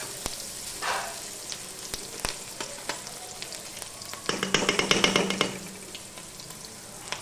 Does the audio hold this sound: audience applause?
no